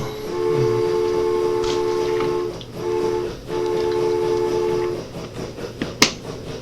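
Trains rolling out of a depot in the Transport Fever game, with steady sustained horn-like tones in short repeated blasts over a low rumble, followed by sharp clanks and a snap near the end.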